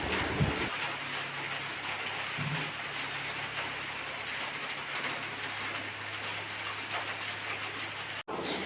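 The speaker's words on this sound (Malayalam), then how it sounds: "നല്ല അടിപൊളി മഴ വരുന്നുണ്ട്." Heavy rain pours down in a steady, dense hiss that stays even throughout, with a brief sharp dropout near the end and no voices.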